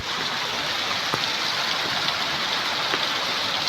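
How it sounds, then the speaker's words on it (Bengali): Heavy rainwater pours down beside a balcony in a steady, loud, broadband rush, an unbroken close wash of falling water with no pauses. "দেখতেই দারুণ লাগছে, এমনভাবে জল পড়ছে"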